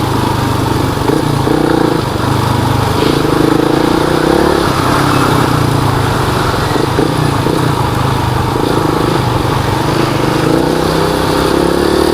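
Yamaha Sniper 150 manual motorcycle being ridden, its engine droning loudly and steadily with small rises and dips in revs and rushing wind noise throughout, no talking.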